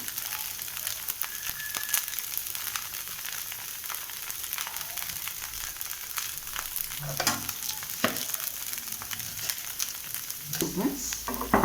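Rava dosa cooking on a hot pan over lowered heat, giving a steady continuous sizzle with scattered crackles and a few scraping touches near the end.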